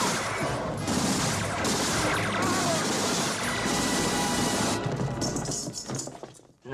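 Rapid modular-rifle gunfire in Rimworld bursts in steady volleys, harsh and fairly close, then trails off into scattered shots near the end.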